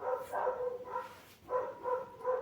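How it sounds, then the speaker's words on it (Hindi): A neighbour's dog barks several times in quick succession, muffled and fairly faint as if from next door, with no talking over it. "ये ना मेरे नेबर का डॉग है"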